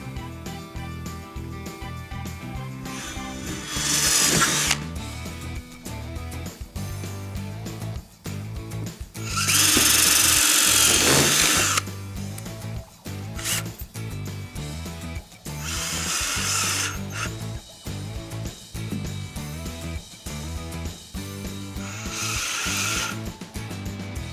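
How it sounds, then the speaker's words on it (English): Several bursts of a power drill whirring into aluminum channel inside PVC railing, separated by quieter clicks and handling noises, close by. "There is aluminum inside there, so we're going to want to pre-drill"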